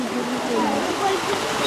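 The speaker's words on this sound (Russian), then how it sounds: "Видишь, воды, воду только начали наливать." Tap water pours steadily into a home bathtub that is just beginning to fill, a continuous hissing splash heard close by, with a parent chatting to a small child over it.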